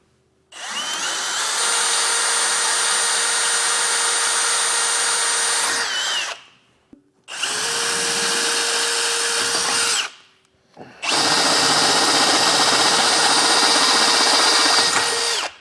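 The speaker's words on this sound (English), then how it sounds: "drill out this top hole on both sides of the frame rail and on both frame rails" A power drill boring through the steel frame rail of a 2024 Jeep Wrangler with bits working up to 9/16 inch: three long, loud, steady whining runs with short gaps between them, close by and alone.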